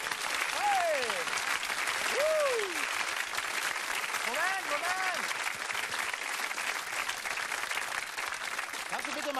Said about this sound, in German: Da kriegst du jetzt einen riesen Applaus